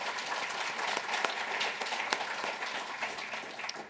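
An in-person audience at an agricultural conference session applauding flash-talk presenters, a dense, steady round of clapping from many hands throughout, filling the room.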